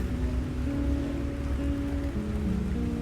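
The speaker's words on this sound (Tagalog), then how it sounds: "Grabe lakas ng ulan." Heavy rain pours outside a school, a dense, steady hiss with no pauses, and a low tonal hum sits underneath.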